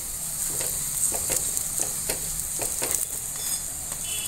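Paratha frying in refined oil on a pan gives a steady, close sizzle with soft crackles and a few stirring or pressing scrapes, with no voice over it.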